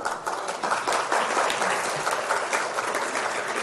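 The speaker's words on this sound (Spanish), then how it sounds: "Un aplauso, por favor." An audience at a nutrition and disease conference session gives a burst of applause, dense and steady clapping throughout, fairly loud and free of speech.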